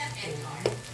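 Balut sizzles as it fries in a pan for a sizzling balut with bacalao dish: a brief, close, steady hiss with a small pop or crackle near the end.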